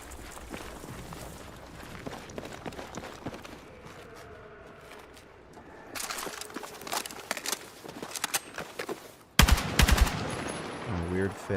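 A bullpup rifle fires in a video game: bursts of rapid gunshots and sharp cracks, quiet at first and then louder and denser, with a heavy blast near the end.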